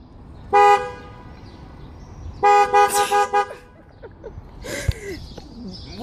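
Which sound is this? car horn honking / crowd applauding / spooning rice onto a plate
car horn honking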